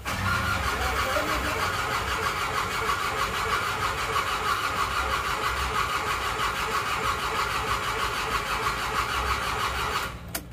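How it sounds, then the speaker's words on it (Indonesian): A small diesel engine is cranked by its starter and runs in a steady, loud, close mechanical clatter that holds for about ten seconds before cutting off abruptly. "Ini kita coba starter dulu."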